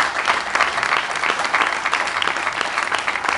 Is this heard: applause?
yes